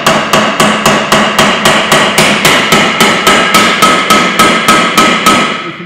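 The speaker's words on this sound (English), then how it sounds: "You can tell by the change of the note when I'm hitting it with the hammer" A hammer strikes the gearbox casing of a 2-litre diesel Ford Mondeo Mk5 about fifteen times in a steady, even rhythm, each blow loud and ringing briefly.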